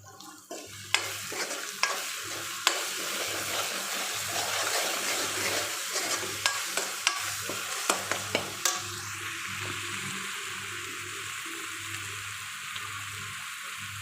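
Cumin hits a browned masala base for aloo nutri and sizzles loudly while a spoon stirs it, with repeated sharp clicks against the pan over a low steady hum.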